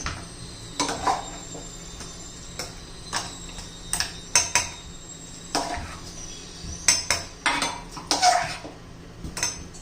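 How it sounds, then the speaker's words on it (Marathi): Cooked leftover rice is scooped from a metal pot into a mixer jar, giving a series of sharp clinks and scrapes of spoon on steel that come in uneven bursts, close and fairly loud, with no talking. "मिक्सरच्या भांड्यामध्ये हा भात घ्यायचा आहे"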